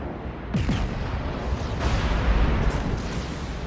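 Heavy naval artillery fire from warship guns in World of Warships, aboard the battleship Großer Kurfürst, with deep rumbling booms and cracking blasts rolling continuously over the clip, loud and close, with no voices.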